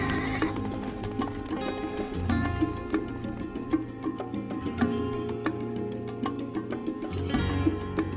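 Horses neighing amid steady clip-clop of hooves, with repeated sharp hoof taps and whinnies over a low rumbling background at moderate distance.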